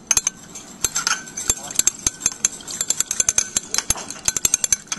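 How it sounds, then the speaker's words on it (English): A glass rod or spoon rapidly clinks against glassware while a hexane, water and iodine mixture is stirred vigorously, giving fast, irregular sharp ticks close by. "Stir away, Mason."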